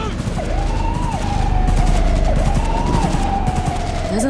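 Rapid automatic gunfire in a Cyberpunk 2077 firefight, loud and sustained, with police sirens wailing throughout.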